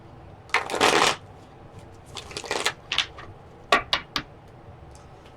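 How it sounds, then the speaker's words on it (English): Tarot cards are riffled and shuffled in several quick bursts, crisp papery flutters separated by short pauses and sharp taps, close up and alone. "Okay, one more shuffle."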